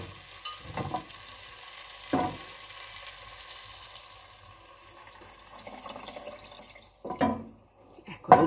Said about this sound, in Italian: adesso mettiamo l'acqua di cottura dei ceci e lasciamo insaporire per bene l'acqua.